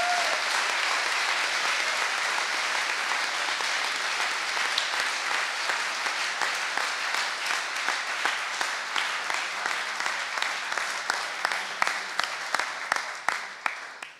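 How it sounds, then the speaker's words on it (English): Audience applause at the HackZurich 2014 hackathon closing ceremony for the BioCloud team: a dense wash of many hands that gradually thins and breaks into slower, distinct claps near the end. "Let's give a big round of applause for BioCloud for them."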